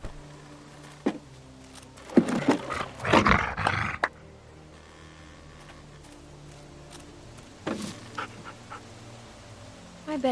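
Dog in The Walking Dead Season 2 video game breathing and panting in a few bursts close by, between quiet stretches, with faint rough huffs and no speech.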